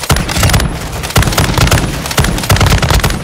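An LMG in Call of Duty Modern Warfare 2's DMZ mode fires loud, close, rapid automatic bursts, three sustained volleys separated by short pauses.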